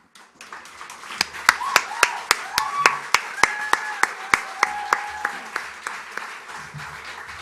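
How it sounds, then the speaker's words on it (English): Audience applause at a teen gala as performers gather on stage for a bow: a crowd clapping steadily for several seconds, with sharp individual claps standing out above the wash and a few faint cheers or calls mixed in. "Another round of applause, I'd say."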